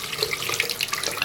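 Running water from a bathroom sink faucet rinses a drain part, a close continuous splashing trickle with small bubbling gurgles, heard alone.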